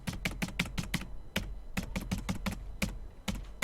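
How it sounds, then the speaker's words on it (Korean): Laptop keyboard typing with quick clustered keystrokes in irregular bursts, close and crisp, including presses of the caps lock key, with no voices. "키보드 캡슐락 끄고"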